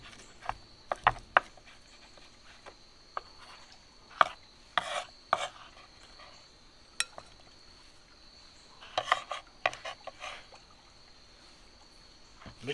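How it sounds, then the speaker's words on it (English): Crab meat being chopped on a board for a Cajun stuffing, heard as scattered, irregular soft knife taps and clicks, close and fairly quiet, with pauses between short bursts. "We're going to chop up some of our crab and add it in there."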